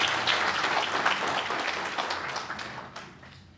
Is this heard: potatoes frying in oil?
no